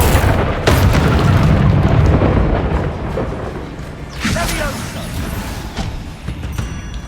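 A Bombarda spell blast in Hogwarts Legacy on hard mode, with heavy booming explosions and rumbling debris layered over dense combat noise, loud and close throughout.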